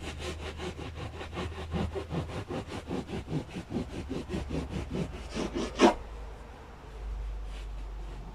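Mineral wool roof insulation being sawn through at a 45 degree angle, a steady run of rhythmic rasping strokes at close range, ending in a sharp louder crunch before the cutting stops.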